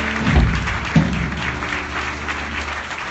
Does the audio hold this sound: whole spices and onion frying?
no